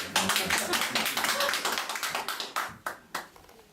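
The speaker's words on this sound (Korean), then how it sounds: "박수 안 쳐요, 이럴 때." A lecture audience at a Korean ancient-history class claps in a dense burst that gradually thins into a few scattered, separate claps near the end.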